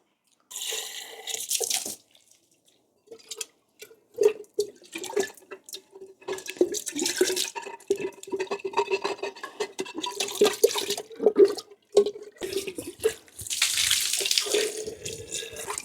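An aquarium tank is washed with plain water and no soap, with tap water running and splashing close by in uneven bursts, pausing briefly and then surging again.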